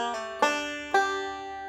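A bluegrass banjo plays bright plucked notes with a pull-off on the third string, three sharp attacks in a quick rolling rhythm, each ringing and decaying, played close and alone.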